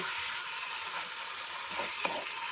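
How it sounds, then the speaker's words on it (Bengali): Peas tossed into a spice masala for Bengali dum aloo fry with a steady, close sizzle over medium flame, with faint stirring scrapes and a small clink near the end. "এর মধ্যে আমি মটরশুঁটিটা দিয়ে দেব"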